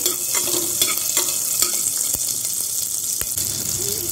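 Asafoetida, cumin and chopped green chillies fry loudly in hot oil, a dense, hissing sizzle close by, with sharp spoon clicks and scrapes at intervals.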